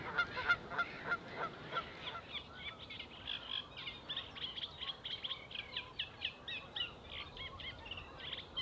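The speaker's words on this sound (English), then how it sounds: "we call them Canada geese" Canada geese honking among reeds, a run of repeated nasal calls that starts near and grows into a rapid, overlapping chorus, moderately loud over a quiet outdoor background.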